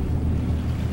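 Water and wind rush past a boat entering a bay, a loud, steady wash of surf and wind noise across the whole short moment.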